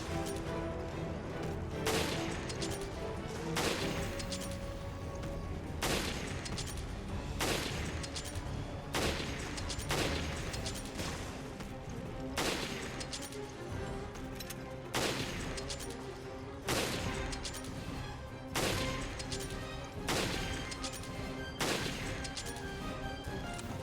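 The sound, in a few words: gunfire shooting enemies in video game Resident Evil Revelations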